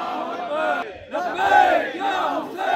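A protest crowd chants Allahu Akbar in answer to a takbir call, loud massed voices rising in repeated swells and filling the space.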